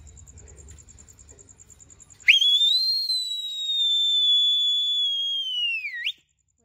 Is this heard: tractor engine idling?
no